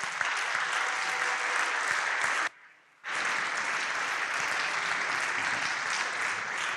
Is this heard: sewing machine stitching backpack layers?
no